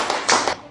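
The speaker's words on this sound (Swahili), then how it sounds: "Pigia Yesu makofi" A church congregation claps hands together in a short burst of overlapping applause, loud and close, fading out after under a second.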